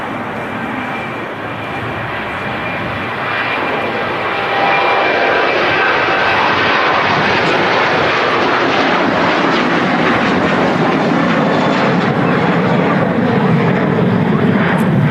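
A SunExpress airliner bound for Antalya takes off from Manchester Airport, its engines building from a lower roar to a loud, sustained broadband thunder that holds steady and close, with no talking over it.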